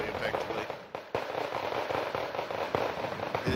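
Artillery explosions in the strategy game Wargame go off as a rapid run of crackling bursts and thuds, dense and overlapping, with a voice talking over them.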